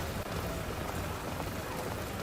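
Steady, dense rainfall in the video game Empire of Sin hissing continuously, loud and close, with no pauses or other sounds standing out.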